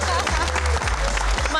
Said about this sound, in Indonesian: Boleh tepuk tangannya lebih meriah lagi.